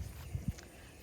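Horses kept outside in a barnyard on a summer morning give two dull hoof thuds in quick succession, close and brief against a quiet background.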